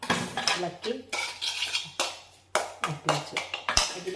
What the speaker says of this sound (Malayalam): നല്ലോണം ഇളക്കി